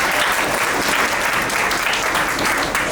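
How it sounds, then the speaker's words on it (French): An audience claps loudly and steadily at a 15th anniversary celebration held on Togolese Independence Day in Arizona, a dense close burst of applause with no pause. "Applaudissez."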